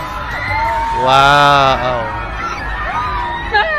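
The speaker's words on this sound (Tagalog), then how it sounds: "Look at this crowd guys." Large crowd of fans at a Bini event cheering and screaming, with loud sustained shrieking voices swelling in the middle and someone talking nearby over the roar.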